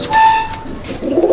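Madrasi pigeons in a breeding loft in Hooghly give a brief, close coo and soft calls over a moment of faint background noise.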